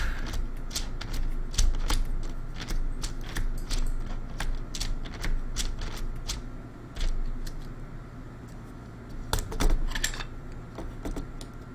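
Fingers type on a freshly built RedScarf 68 mechanical keyboard fitted with Mod switches, steady close clacking keystrokes in uneven bursts, occasionally heavier presses, over a faint room hum.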